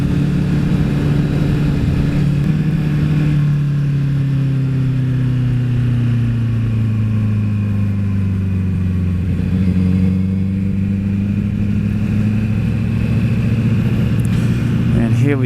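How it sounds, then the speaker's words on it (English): Motorbikes and traffic on a hilly country road near Somerset Dam, a steady engine drone with a falling, shifting pitch, loud and close, as if heard from a passing or ridden vehicle. "As you can see, there's a few motorbikes out and about today."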